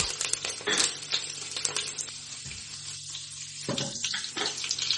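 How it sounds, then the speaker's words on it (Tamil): Garlic hitting hot oil with mustard seeds and fenugreek for a sardine curry: a loud, steady crackling sizzle with splattery bursts near the start and again after a quieter middle, no voices. "கொஞ்சம் சூடானதுக்கப்புறம் ஒரு கைப்பிடி அளவில் பொரிச்சு வச்சு பூண்டை எடுத்து போட்டுக்குங்க"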